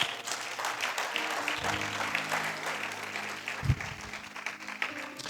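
A church congregation applauds and cheers together, a steady mass of clapping with crowd noise throughout, swelling briefly with a low thump near the end.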